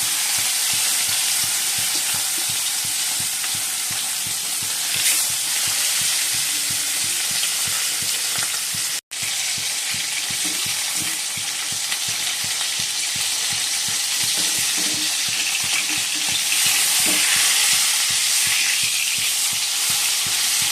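Food fries in hot oil in a wok with steady stirring, a loud, continuous close sizzle overlaid by rhythmic scraping strokes of the spatula, with one brief dropout midway.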